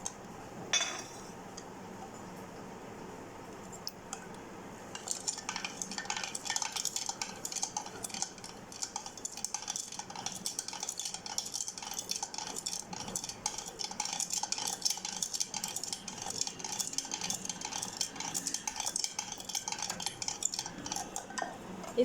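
A spoon stirring four tablespoons of sugar into milk in a glass gives rapid, steady light clinks and scrapes. They run continuously for about seventeen seconds after a brief quiet start and one sharper tap, faint and close.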